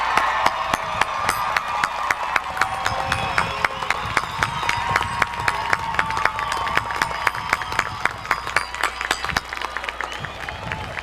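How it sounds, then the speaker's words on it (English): A high school graduation audience applauds its seniors with sustained, dense clapping across a large hall, steady throughout with scattered sharper claps standing out. "They deserve that applause."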